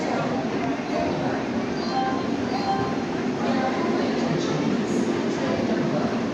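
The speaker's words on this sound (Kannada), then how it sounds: "ಕ್ರಾಂತಿವೀರ ಸಂಗೊಳ್ಳಿ ರಾಯಣ್ಣದಿಂದ ಬೆಳಗಾವಿಗೆ ಹೋಗೋ ಒಂದೇ ಭಾರತ್ ಟ್ರೈನ್" A Vande Bharat express train running from Krantiveer Sangolli Rayanna station to Belagavi, with a steady, loud rumble of rolling wagons that holds through the whole stretch and faint metallic clinks over it.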